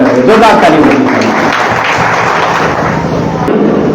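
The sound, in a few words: audience applause at Teachers' Day ceremony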